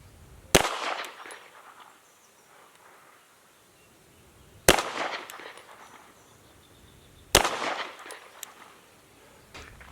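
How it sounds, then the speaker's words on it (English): Three sharp handgun shots at paper targets from about 13 feet, spaced several seconds apart, each a crisp close crack with a short decaying tail. "Aiming, shooting the exact same way."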